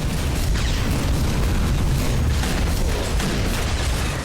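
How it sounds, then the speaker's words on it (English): Cannons in the shooter game Tower of Guns fire relentlessly, a dense, loud, continuous wall of booms and blasts that rumbles without pause and stays thick in the low end, with no voices. "Flying enemies coming at you from all sides, cannons firing at you relentlessly."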